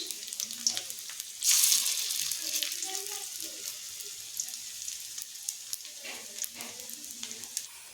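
Steady close-up sizzle of potatoes frying in a pan crackles, with a brief louder surge early on and small pops and stirring scrapes throughout.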